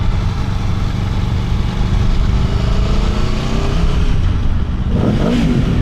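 An Aprilia Tuono V4 motorcycle engine revs up and accelerates, steady and loud throughout, with rising harmonic pitch sweeps and a brief surge near the end.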